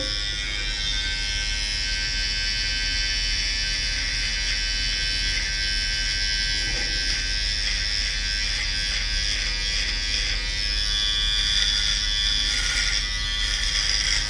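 Professional electric hair clippers buzz continuously while trimming a beard, a steady close motor whine that holds without pause for the whole stretch, with no talk over it.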